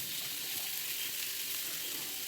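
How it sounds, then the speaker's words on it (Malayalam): Masala reheating in a dry pan with no oil gives a dense, continuous sizzle that stays level and close throughout, with no voices. "ഞാൻ ആക്കിയ മസാല ആയതുകൊണ്ട് തന്നെ എണ്ണയൊന്നും വയ്ക്കാതെയാണ് ഞാൻ മസാല ഒന്ന് ചൂടാക്കുന്നത്"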